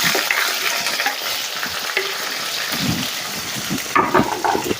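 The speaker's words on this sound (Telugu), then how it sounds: "ఆనియన్స్ పచ్చిమిర్చి అయితే వేసేస్తున్నాను" Onions and green chillies fry in hot oil with mustard and cumin seeds, giving a loud, continuous close sizzle like rain on a surface, with occasional stirring scrapes and no speech.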